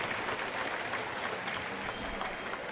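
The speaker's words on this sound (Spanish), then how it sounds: "A ellos, a todos los de las comisiones, les pido un fuerte aplauso." A church congregation at a Good Friday procession gives steady, dense applause heard at a moderate distance, continuous clapping throughout without voices standing out.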